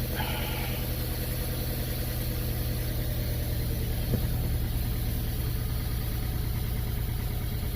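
Engine of a 2005 Chevy Cavalier idling with a misfire, a continuous uneven rumble heard close and steady throughout, with no talk.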